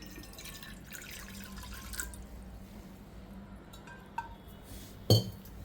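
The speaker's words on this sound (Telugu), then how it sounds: "ఇప్పుడు నేను గ్లాస్ నీళ్ళు పోస్తున్నాను" A glass of water pours and splashes quietly into a pot, with a few soft clinks and drips, ending in a sharper metallic knock near the end.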